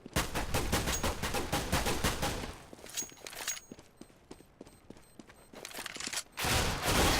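Counter-Strike gunfire in a professional esports match, rapid automatic bursts of sharp shots, loud and close, thinning into a spaced string of single cracks before another dense burst at the end, heard without talk.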